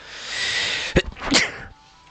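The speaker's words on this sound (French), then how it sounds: "petit éternuement" A single sharp video game sneeze bursts out over a steady hiss of background noise, loud and close, followed by a short drawn-out tail.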